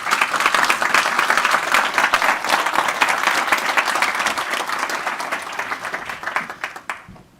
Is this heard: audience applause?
yes